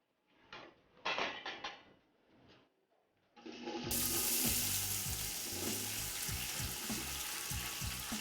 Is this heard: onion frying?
yes